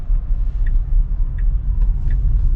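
A Tesla on self-driving autopilot pulls away from a green light, giving a steady low road and cabin rumble with a few faint, brief high tones over it.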